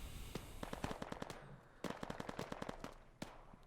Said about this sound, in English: Keep firing these grenades here.